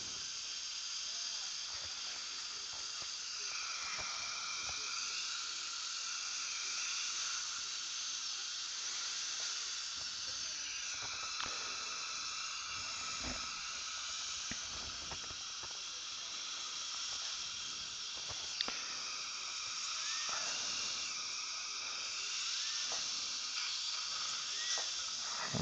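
A dental drill whines steadily for a long stretch while drilling out a broken implant abutment screw, a thin high hiss with faint clicks and scrapes underneath, no talk.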